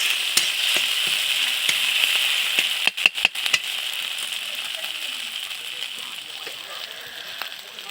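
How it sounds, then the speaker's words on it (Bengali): Spice masala frying and being stirred in a pan: a steady close sizzle throughout, with a few sharp utensil scrapes and knocks against the pan partway. "মশলাটাকে কষিয়ে নেব ভালো করে।"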